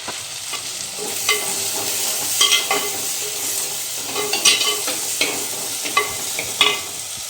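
Onions and tomatoes sauté in a pan for a crab fry and fish curry meal, a constant close sizzle broken by regular scraping stirs and spoon taps, with no voices.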